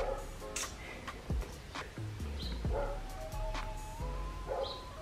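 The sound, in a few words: dog barking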